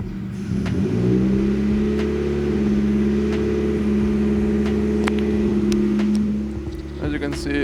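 A VW 20V engine with an IAC valve runs at idle, then picks up into a steady, higher, droning hum when the valve switches on. The sound is loud and close, with clicks and a brief stumble near the end.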